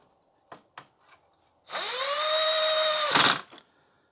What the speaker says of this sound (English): So what I might do is just put 4 screws in here to hold it down